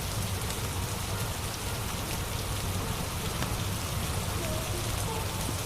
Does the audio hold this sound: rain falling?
yes